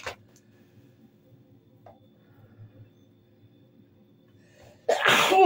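A woman sneezes once loudly and close near the end, after several seconds of quiet room hum.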